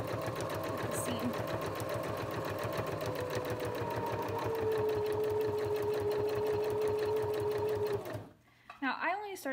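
A sewing machine stitches a seam on a fabric bib in steady, loud, rapid pulses for about eight seconds, then stops, and a voice speaks briefly at the end.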